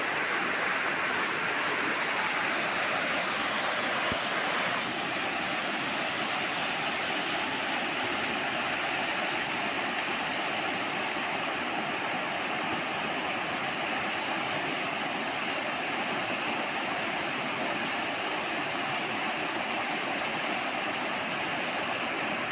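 A river swollen after a night of heavy rain rushes past in a steady, loud broadband roar of churning water, continuous and close with no pauses.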